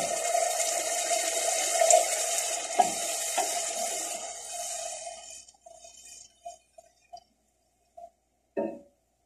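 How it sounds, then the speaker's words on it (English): Water pours steadily into a cooking pot for a few seconds, a near hissing stream that stops, followed by a few sparse clicks and a soft knock in the quiet. "We're going to go ahead and add the rest of the water."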